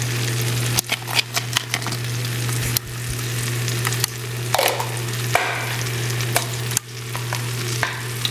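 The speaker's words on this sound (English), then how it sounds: "Now we're gonna go ahead and add both my peppers and my onions." Sliced peppers and onions sizzle steadily in a hot pan for a steak sandwich, broken by repeated scraping and clicking utensil strokes as they are pushed around, with a constant low hum beneath and no talking.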